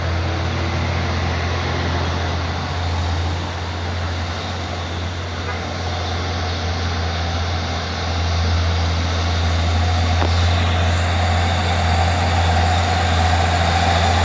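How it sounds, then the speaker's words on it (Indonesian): A loaded Hino truck labours up the steep Bukit Kodok hill, its heavy diesel engine droning steadily and loudly with a deep low rumble throughout, a brief faint whistle rising over it partway. "Truk Hino yang bermuatan"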